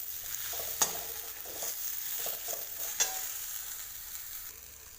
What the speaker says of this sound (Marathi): आता ही भेंडी कमी गॅसरीला हलवून छान कमी गॅसवर झाकण ठेवून देऊ